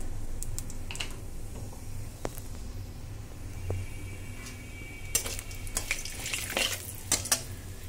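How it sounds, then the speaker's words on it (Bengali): Two bay leaves and whole cumin seeds go into hot oil left from frying pointed gourd for an aloo potol curry, giving a soft, steady sizzle with scattered crackles, spits and a few utensil clicks. "সেই তেলে দুটো তেজপাতা ফোড়ন দিয়ে দিলাম আর দিয়ে দেব গোটা জিরে"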